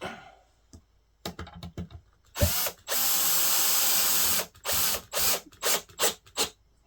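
A power drill drives screws into the new legs of an old cedar chest, with short bursts, one sustained whirring run and ratcheting clicks, close and loud with no talk.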